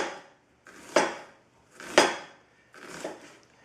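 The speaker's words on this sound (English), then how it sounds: "we're just chopping away here at this onion" Knife chopping through an onion on a board for a vegan patty: three distinct, fairly close chops spaced about a second apart, each a sharp hit with a short scraping tail, with no talking.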